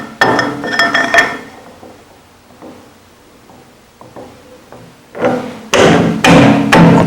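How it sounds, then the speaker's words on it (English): Steel exhaust tubing set into a metal vise and clamped: a burst of loud metallic clanks and thuds, a quiet stretch with a few light taps, then heavy, close clunks as the jaws are tightened. "And then we'll place the tubing in the vise."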